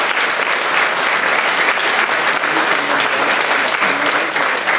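A concert audience applauds loudly and steadily, a dense, continuous burst of clapping from a large crowd that holds at the same level throughout.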